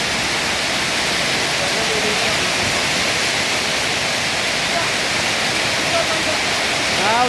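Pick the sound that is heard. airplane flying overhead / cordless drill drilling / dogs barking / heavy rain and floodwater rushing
heavy rain and floodwater rushing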